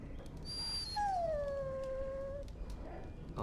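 A dog in the Dragon Age video game lets out a single drawn-out, descending whimpering howl, clear and fairly close over a low background hum.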